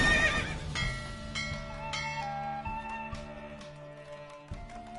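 A horse in The Witcher 3 gallops at speed with steady, rhythmic hoofbeats after a loud neigh at the start, all close and clear with no talking.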